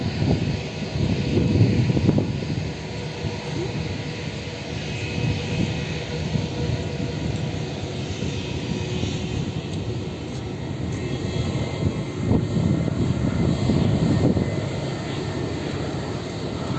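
A fixed-wing airplane on the active runway at Gibraltar airport gives a steady, loud engine roar. It holds for the whole stretch, swelling slightly near the start and again toward the end, with no talk over it.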